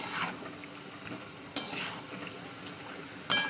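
Chicken pieces with masala and salt being sautéed in oil for chicken kosha, a spoon scraping the pan with a soft sizzle underneath and a few sharp clinks of the utensil on the pot.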